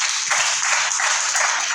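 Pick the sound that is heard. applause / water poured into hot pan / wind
applause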